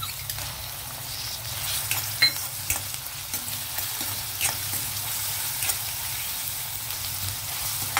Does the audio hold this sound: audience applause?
no